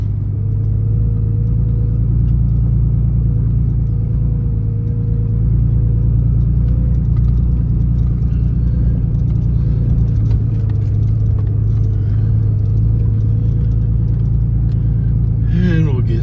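A car rolls slowly through a campground with a steady low engine rumble and tire drone, close and continuous, while someone talks over it.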